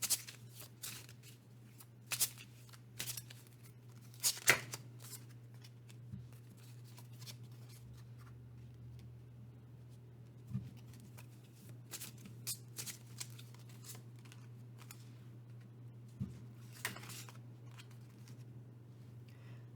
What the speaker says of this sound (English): I'm going to pull a couple of Astro Chakra cards